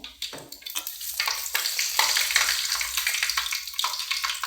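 Curry leaves crackle and sizzle in hot oil during a tempering step, a loud, continuous frying hiss with sharp spitting pops throughout, close up and with no talking.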